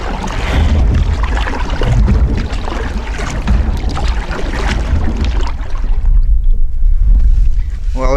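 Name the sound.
paddling a canoe or kayak on a lake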